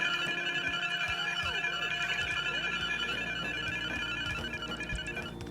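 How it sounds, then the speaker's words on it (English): A tier-one chip-programming machine in a factory-building computer game gives off repeated electronic beeps, bright tonal chirps and steady tones layered over constant background game hum, with no talk. "And make this lovely beeping sound."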